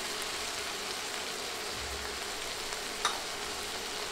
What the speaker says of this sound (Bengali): নেড়ে মশলাগুলো একটু ভেজে নিব।